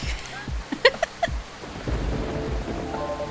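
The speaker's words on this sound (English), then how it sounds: "It's been very stormy, huh? This rainy season sure is something." Stormy rain and thunder ambience from the video game Coffee Talk 2, with a few sharp low rumbling cracks early on, then a steady wash of rain and soft tones beneath.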